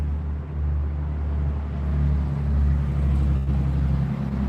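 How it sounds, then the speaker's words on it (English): A noisy truck passes nearby, a loud low engine rumble that swells and then holds steady, with no talk. "Well, that was a noisy truck."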